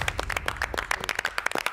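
Studio audience clapping for a contestant on a televised cooking competition show, a brief burst of fairly sparse, uneven claps close by with no talk over it.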